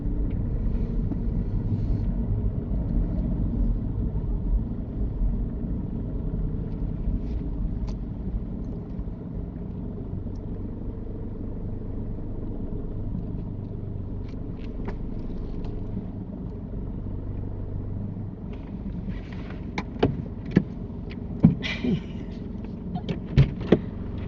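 A learner's car creeps forward into a parking bay during a mock driving test on Sunderland test routes, its steady low engine rumble and road noise heard from inside the cabin, with a few small clicks and knocks near the end.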